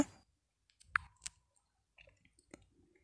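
Sparse, quiet mouse clicks while selecting a job listing on a recruitment website, a few isolated sharp ticks spaced apart in a near-silent room.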